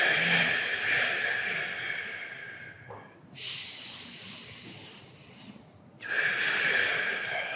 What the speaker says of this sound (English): we'll take 3 slow breaths